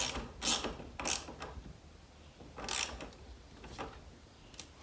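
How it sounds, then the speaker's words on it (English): Battery terminals being tightened at an off-grid shed cabin solar setup, quiet ratcheting wrench bursts in several short clusters with pauses, close and soft, no talking. "I'll tighten these terminals down."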